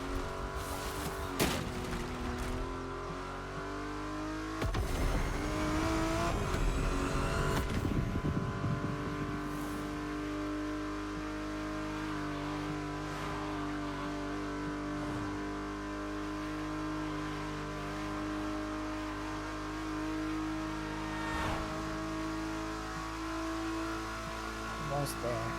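A luxury car revs and drifts in The Crew Motorfest, its engine droning steadily with bursts of acceleration and a few sharp clicks, while a person talks over it.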